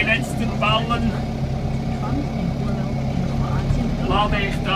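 A Fendt tractor idles and works while loading bales, a steady close engine rumble running underneath someone talking.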